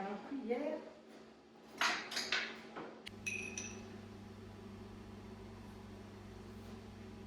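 While hummus is served, a spoon gives a few bright clinks against a dish as someone speaks French. A steady low appliance hum runs underneath.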